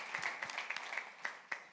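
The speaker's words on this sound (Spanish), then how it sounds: "da ese aplauso fuerte" Scattered, fairly quiet clapping from a church congregation at a Sunday service, with a few sharper individual claps standing out over a thin, sparse patter.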